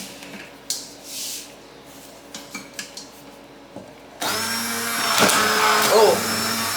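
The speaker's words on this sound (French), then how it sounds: "Je vais mixer sans me brûler." A hand blender starts abruptly and runs with a loud steady whir while mixing hot plum jam in a pot, preceded by light clinks and kitchen handling noises.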